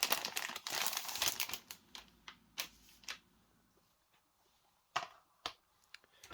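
A plastic game bag is handled and crinkled up close, with dense rustling at first, then sparser sharp crackles and snaps separated by short quiet gaps, and no one talking.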